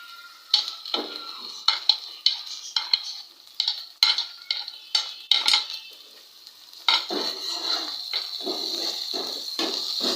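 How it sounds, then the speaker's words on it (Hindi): Tomatoes are fried and stirred into a masala for aloo gobi, a spoon scraping and clinking against the pan in repeated bursts over a steady close sizzle that grows louder toward the end. "टमाटर डालने के साथ साथ हम इसे भून लेंगे।"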